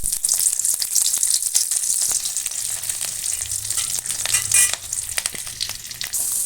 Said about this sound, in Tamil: காஞ்சதுக்கப்புறமா சீரகம், கருவேப்பிலை, 2 வரமிளகா எடுத்து வச்சதை போட்டுக்கோங்க